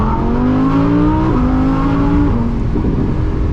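A BMW M4 CS engine roars loud and close as it accelerates hard, its pitch climbing steadily and then dropping sharply at two quick upshifts before pulling again.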